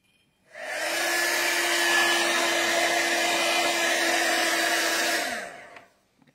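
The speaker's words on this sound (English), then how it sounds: "Grab my heat gun." A handheld heat gun blows at a steady, loud whir with a constant tone, starting up, running evenly for about five seconds and then shutting off, with no talking over it.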